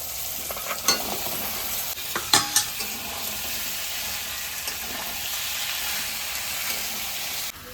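Jackfruit pieces fry with a cooked spice masala and are stirred in a pan, a loud, steady close sizzle broken by a few sharp scraping clatters early on before settling into an even hiss, with no voices.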